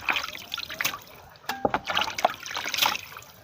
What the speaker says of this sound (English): So after washing the meat